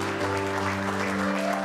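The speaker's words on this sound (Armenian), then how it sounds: "Ծափեր Հայաստան աշխարհիս համար։" Crowd applause at a celebration for Armenia, a dense steady clapping that fills the whole stretch with sustained tones of music beneath.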